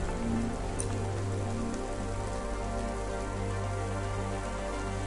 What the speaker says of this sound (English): Don't let all the rain get you down.